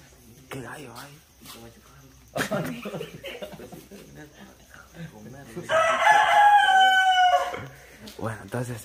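A rooster crows loudly nearby, one long drawn-out call rising out of ongoing conversation, with people talking before and after it.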